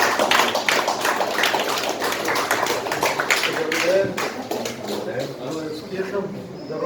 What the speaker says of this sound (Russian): Пожалуйста, подайте бурные аплодисменты.